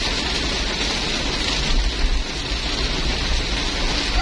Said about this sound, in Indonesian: hujannya makin kencang